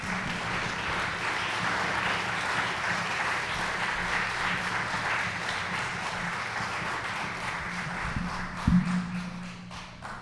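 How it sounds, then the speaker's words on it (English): A story slam audience applauds a storyteller with sustained clapping that holds steady for several seconds, then a couple of close thumps near the end as the applause tapers. "So please put your hands together for Heather Andresen."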